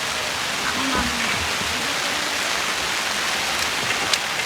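Steady rain falling at a campsite, a dense even hiss of drops on surfaces close by, with voices briefly talking beneath it.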